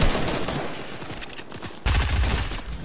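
Heavy video game gunfire rattles almost without pause, loud rapid shots blending into a continuous fusillade that jumps even louder near the end.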